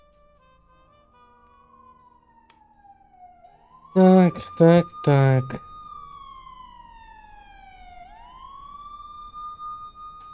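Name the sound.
ambulance siren in video game Blacksad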